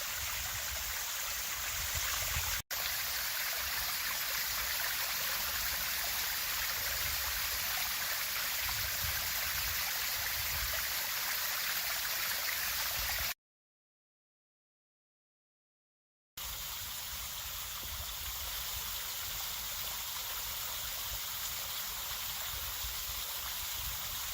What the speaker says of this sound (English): Okay, so we've got this waterfall.